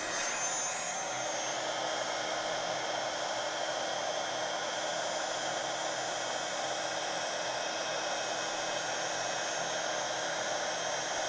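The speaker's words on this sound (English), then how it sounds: "heat tool to the rescue" A craft heat tool blows hot air over stamping ink, a continuous loud hiss and whoosh that holds steady for the whole stretch with no breaks.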